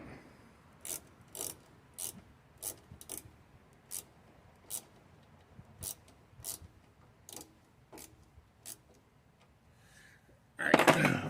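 A ratchet tightens parts during a carburetor rebuild on a Briggs & Stratton 16hp opposed-twin engine from a John Deere 116 mower. Crisp, evenly spaced clicks repeat about a dozen times up close, then a louder rustling burst ends it.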